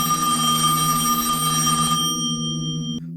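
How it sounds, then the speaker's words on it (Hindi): A phone rings with an incoming call, a sustained electronic ringtone with layered steady tones that cuts off abruptly near the end, loud and close with no talking. "एक रात सौरव के फोन में अमन का कॉल आता है।"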